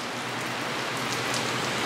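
A sunshower pours down nearby, an unbroken hiss of raindrops striking outdoor surfaces with a few crisper individual taps, steady in level and free of talk.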